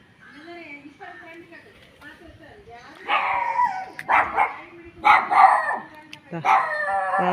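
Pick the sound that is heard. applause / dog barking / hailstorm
dog barking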